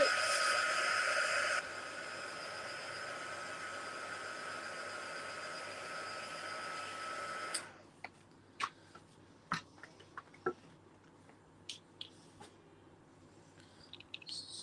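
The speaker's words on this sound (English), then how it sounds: "Just need to dry those yellow bits." A hair dryer blows steadily and loudly to dry yellow paint on a mixed-media artwork, then cuts off about halfway through, leaving faint scattered clicks and taps.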